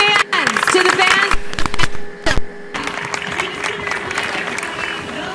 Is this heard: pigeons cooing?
no